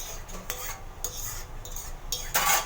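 Tangy lemon pickle being mixed by hand with cooled oil, giving close, intermittent wet squelching and clinking scrapes against a bowl, with no talk.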